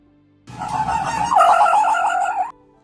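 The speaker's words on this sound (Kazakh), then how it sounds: "Тауық, балапан." A chicken gives a single sustained, loud call lasting about two seconds, clear and alone against silence.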